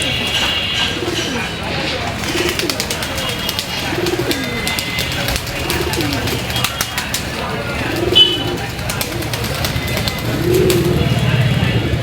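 Pigeons coo in repeated soft, rolling phrases during morning feeding, with occasional wing flutters and chirps over a constant background hum.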